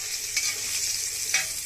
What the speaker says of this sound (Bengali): আর এর ভিতরে কাঁচা ঝাল ভেজে নেবো।